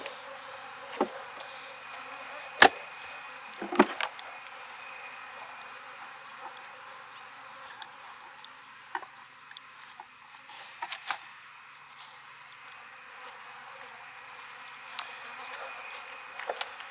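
Honey bees drone in a steady, faint hum at an open hive in Jacksonville, Florida during fall hive reductions, with occasional louder buzzes as single bees pass close and a few light knocks of hive frames.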